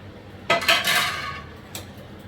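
A metal spoon clinks against a pot as fish is dropped into boiling fish curry and stirred, one clatter followed by a short scraping stir and a later light knock, close with no voices.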